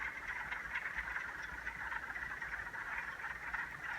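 A dense chorus of frogs croaks continuously, a steady trilling din from many animals at a moderate distance, with no voices.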